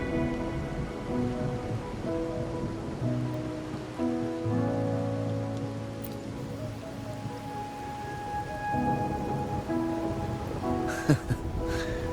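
Steady rain falls in the video game Wuthering Waves, a soft continuous patter under a swelling musical score, with no voices.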